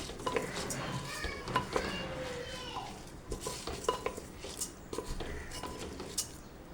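Raw rice stirred in a hot pan in a home kitchen, giving a close series of scraping and clinking spoon-on-pan strokes with light sizzling, while a voice talks over it and faint background activity continues.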